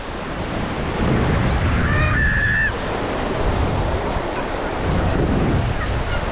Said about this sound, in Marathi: तर आता समुद्रकिनारी तारकर्ली इथे आणि समोर पहा किती चकाचक पाणी आहे